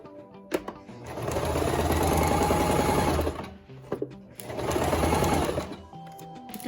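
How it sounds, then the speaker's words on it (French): A sewing machine stitching fabric pieces together for a small pincushion, running in two loud, steady bursts of rapid mechanical whirring with short pauses and a few clicks between them, close up and with no talking. "Je vais aller coudre tout le long ici."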